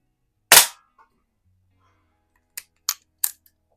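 A Rohm Twinmaster Match air pistol fires at a can with one sharp, close shot, followed about two seconds later by three quick metallic taps in an even rhythm, against near silence.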